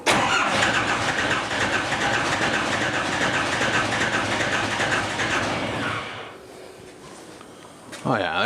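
Cummins 4BT diesel fitted in a 1968 Ford Bronco cranks and fires, running loud and steady with heavy low rumble for about six seconds before cutting out, then briefly roaring again at the end.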